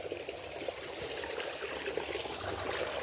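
Water flows steadily into a fishpond with a constant, close rushing and trickling sound, with no voices over it.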